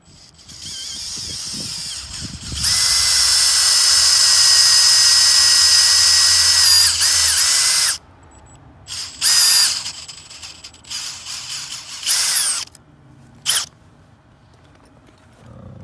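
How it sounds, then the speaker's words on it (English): A power drill whines loudly and steadily for several seconds while drilling into a maple tree, then stops, followed by a few shorter bursts of drilling and some scraping. "we just got done drilling this one"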